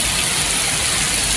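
Heavy rain pours over city streets in Coimbatore, a loud, dense, unbroken hiss of water filling the short moment with no voices.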